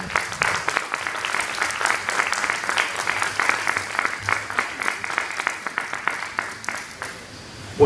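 An audience breaks into sustained applause to welcome speaker Pablo Muñoz at a talk in Resistencia, with steady, moderately loud clapping that continues throughout and tapers slightly near the end.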